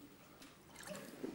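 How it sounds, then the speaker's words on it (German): Plain drinking water is poured into a mold for making an ice record in a 1986 television cooking studio, a faint, brief splashing trickle that rises near the end. "Gießen wir einfach Wasser rein. Das ist einfaches Trinkwasser."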